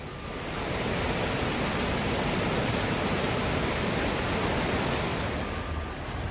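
Floodwater of the Tamsa river near the Tapkeshwar Mahadev temple, swollen by heavy rain, pours past in a constant broad roar, loud and close, with no voices.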